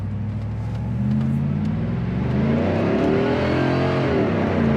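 A 1996 Pontiac Trans Am WS6 accelerates hard, its engine note climbing steadily in pitch and loudness over several seconds, close and continuous with no talking.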